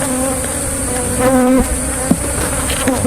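Dense, steady buzzing of aged bees swarming close around a wooden hive box during bee farming, a continuous insect drone with harmonic whine holding throughout, no voices.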